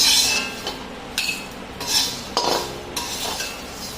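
Curry leaves and asafoetida roasted for garlic idli podi are scooped out of a pan, giving a few sharp metallic scrapes and clinks of a spoon against the pan, spaced irregularly, close and moderately loud, with no speech.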